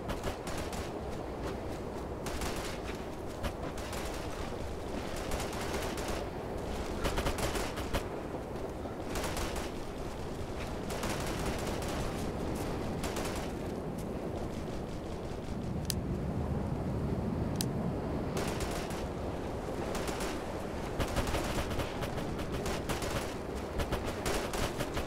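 Sustained gunfire in the video game Operation Flashpoint: Red River: rapid automatic bursts and scattered single shots crackle continuously for the whole stretch at a moderate, slightly distant level over constant background rumble.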